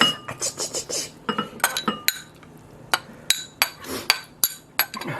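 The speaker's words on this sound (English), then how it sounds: "And then transfer to the bowl." Dishes and utensils clink repeatedly while oyako-don (chicken and egg over rice) is transferred from a pan into a bowl, a close series of sharp metallic and ceramic taps in an irregular rhythm, without talk.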